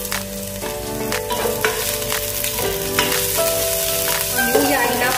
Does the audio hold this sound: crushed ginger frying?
yes